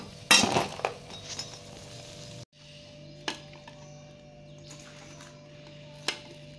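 Crisp fried vadas are lifted out of a frying pan: one sharp metallic clink of a utensil against the pan, then a few lighter taps and scrapes spaced out over a quiet kitchen background.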